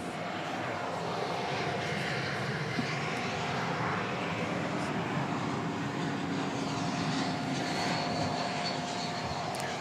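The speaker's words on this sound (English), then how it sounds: "this is the first Spirit plane we've seen this evening. It's an Airbus A321 arriving from Las Vegas" A Spirit Airlines Airbus A321 arrives at DFW Airport at night on its way in from Las Vegas, making a steady, sustained jet roar with no break throughout.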